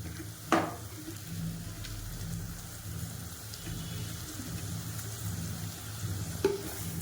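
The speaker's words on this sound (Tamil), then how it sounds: "இப்போ இது நல்லா வதங்கணும் தக்காளி வெங்காயம்" Tomato and onion sizzle steadily in a hot pan for crab gravy, a constant crackling hiss with a couple of sharp clinks of a spoon.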